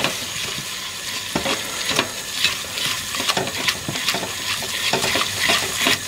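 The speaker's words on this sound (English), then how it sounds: "got my butter, I'm going to tip in the flour, and then we're going to give it a stir" Butter and flour stirred together in a hot pan to start a white sauce for a bacon and cheese hotpot, a steady sizzle with scraping utensil strokes recurring through the whole stretch, close and fairly loud.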